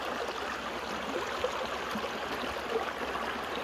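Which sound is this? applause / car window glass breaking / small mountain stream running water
small mountain stream running water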